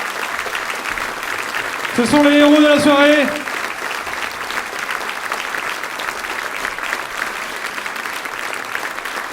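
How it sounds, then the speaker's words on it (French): A concert audience applauds steadily and warmly throughout, while someone speaks briefly over the clapping near the start. "Allez, on les applaudit bien fort."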